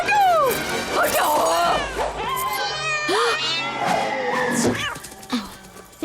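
A black cat meows in a busy scene, its rising and falling cries repeating through the clip among raised voices, a crash and other clatter.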